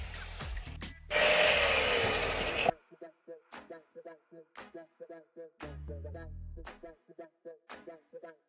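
A power tool cuts out rusted sheet metal from a VW T4 van sill, giving a loud, harsh grinding burst of about one and a half seconds, followed by someone talking over quiet workshop sounds.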